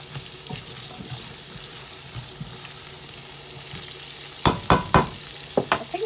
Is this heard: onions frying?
yes